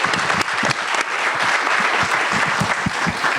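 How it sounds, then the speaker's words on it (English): A conference audience at the Louisiana Smart Growth Summit gives panelists a sustained round of applause, thick and continuous clapping throughout with no talking on top. "Let's give them a round of applause."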